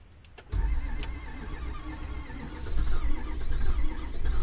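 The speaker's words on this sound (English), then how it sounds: "We'll do a quick crank." A flood-damaged Ford F450 truck engine cranks over, a steady low churning grinding rhythm that starts abruptly after a brief pause and continues loudly to the end, growing slightly stronger.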